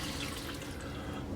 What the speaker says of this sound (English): take some water, and we're just going to cover all this up.